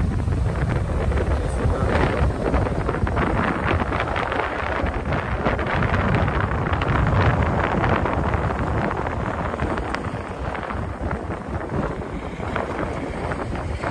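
Wind sweeps across the beach at Puri's New Marine Drive, buffeting the microphone with a continuous loud, blustery roar for the whole stretch, no voices heard.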